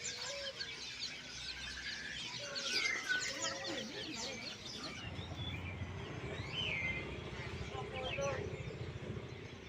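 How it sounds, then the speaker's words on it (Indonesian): Small caged birds at a busy outdoor bird market in Malang, including white-eyes and munias, chirp and tweet in a dense overlapping chorus, with a rooster-like call and people talking and moving around throughout. "Ini lagi burung kacamata, ada juga burung emprit."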